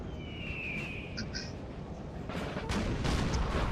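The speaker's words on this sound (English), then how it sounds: "My artillery is now into action" Cannon fire from a Napoleon: Total War battle booms out in a few dull, low blasts amid constant battlefield rumble, with brief shrill whistles earlier and heavier thumps toward the end.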